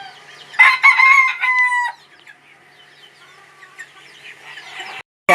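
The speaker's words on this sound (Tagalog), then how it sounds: "pakikita ko naman sa inyo yung ibinigay sa ating inahin. Dalawang hen." Kelso cross hens and a rooster cluck and crow close by, with a loud crowing call at the start and then softer clucking and chatter from the flock.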